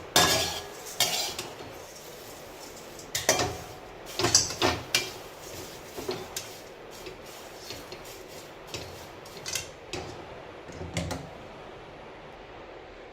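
Dried onion is stirred as it roasts over low heat in a kadai for Konkan goda masala. A spatula scrapes and clinks against the metal in irregular bursts, near and fairly loud, between quieter stretches, with no voices.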